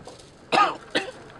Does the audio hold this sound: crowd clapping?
no